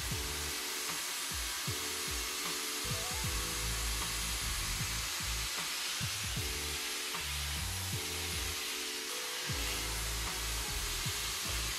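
A hot air brush dryer blows steadily while hair is brushed and blow-dried at home, giving a continuous loud airy whoosh with a faint rhythmic humming and rasping of brush strokes underneath.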